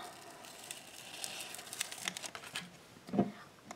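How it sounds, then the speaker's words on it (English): Cricut vinyl decal being peeled off its backing sheet, a quiet close crinkling and crackling with a few small sharp ticks and a louder rustle near the end. "And then we're going to peel it off the backing."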